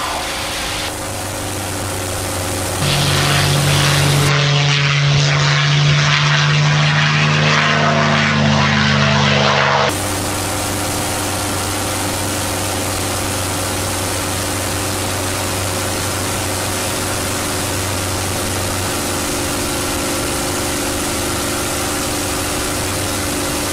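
A propeller aircraft engine is pushed up to 2300 RPM for the takeoff run, a loud sustained drone with strong steady harmonics that swells and holds throughout, close and alone with no talk over it.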